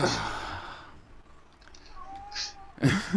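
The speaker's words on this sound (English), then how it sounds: "there's the cat to join in" A cat gives a drawn-out meow and a sighing sound in a quiet room. Breathy vocal noise comes at the start and end, and a faint tonal cry sits in between.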